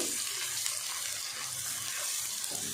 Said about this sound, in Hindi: अब गरम होता है तो इसमें प्याज डालते हैं।